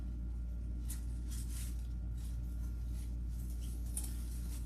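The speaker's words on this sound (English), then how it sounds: "And we just take one and then just cut them apart." Scissors snip apart artificial leaf stems while a spring door wreath is assembled, a few quiet close cuts spread over a steady low hum, with no talking.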